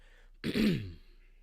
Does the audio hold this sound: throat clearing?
yes